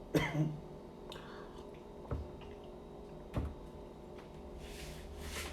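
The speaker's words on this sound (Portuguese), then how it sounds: "Cheguei a chorar aqui com essa tosse" A short cough opens the clip, followed by a couple of fainter throat-clearing sounds spaced apart in a quiet room.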